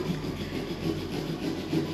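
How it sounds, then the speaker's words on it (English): A drywall saw cuts through the bottom of a pumpkin, a continuous rasping, rubbing scrape at moderate volume with soft, irregular strokes and no talking. "So it is going really quick as I'm sawing through the bottom of this pumpkin"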